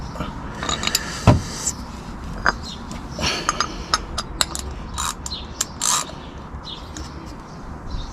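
Ratcheting and clicking of a tool tightening a part on a Vauxhall Zafira B engine during a service, with scattered metallic clinks and clacks over a low background hum.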